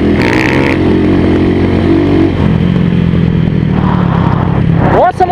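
Dirt bikes on a rough Brazilian dirt trail roar loudly and close, engines revving and pulling hard with steady droning tone, a brief rising rev near the end.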